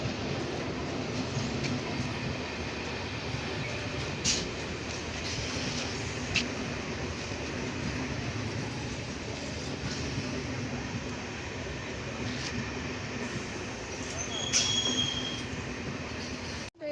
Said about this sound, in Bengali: চলো ট্রেনে উঠবো একটু পরেই ট্রেন আসবে